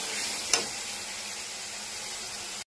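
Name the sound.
spice paste sizzling while stir-frying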